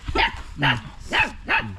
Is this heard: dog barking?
yes